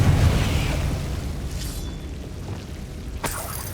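A Confringo blasting spell explodes in Hogwarts Legacy, a loud deep boom that rumbles and fades over a few seconds, followed by a sharp crack near the end.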